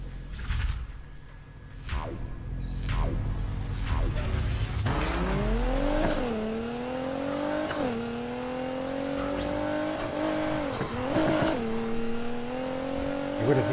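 Racing-game car engine revving hard in Need for Speed Heat, its pitch sweeping up and down through gear changes, with brief tire squeals and skids over a steady close roar.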